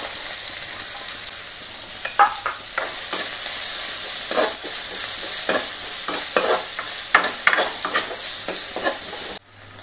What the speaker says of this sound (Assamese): ইয়াতে মই পিঁয়াজখিনি ধুনীয়াকৈ দি দিম পিঁয়াজখিনি অকণ ফ্ৰাই কৰি ল'ম